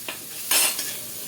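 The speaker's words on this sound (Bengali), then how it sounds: "মশলাটা আরও ভালো করে কষিয়ে নেব" Spice masala for hilsa biryani being stirred and stir-fried in a pan, a brief scrape with a faint sizzle near the middle against quiet kitchen background.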